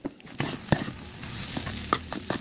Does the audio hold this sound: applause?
no